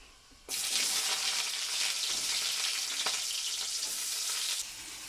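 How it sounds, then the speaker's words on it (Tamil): Chopped onions hit hot oil with a sudden loud sizzle that holds steady for several seconds, with a faint clink partway through, then eases slightly. "ரெண்டு வெங்காயம் அரிஞ்சு வச்சுருக்கிறேன் இப்போ அதை நம்ம வந்து போட்டுக்கலாம்"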